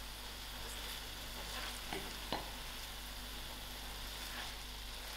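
Tomatoes simmering with potatoes and melted-down methi herbs in a pot give off a steady soft sizzle, with a couple of brief stirring scrapes near the middle and no talking.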